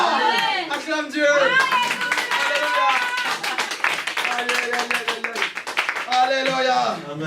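Congregation at a French-language church service clapping and acclaiming God, rhythmic claps and cheering voices mixed with loud singing or shouting throughout.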